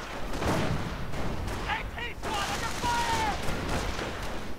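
Battle in a WWII strategy video game as a Panzer IV advances near an anti-tank gun and is hit by a sticky bomb: dense overlapping gunfire and bursts with sharp whistling streaks, loud throughout.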